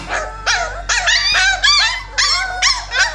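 Puppies howling and yipping in a rapid series of about eight close, loud rising cries with bark-like onsets, no talking.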